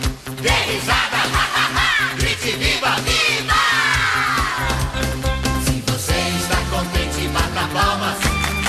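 A studio crowd shouting and singing along loudly in unison, with rhythmic beats and bursts of cheering throughout, under a game-show atmosphere.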